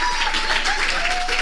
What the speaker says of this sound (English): So one more time for Professor Mrs.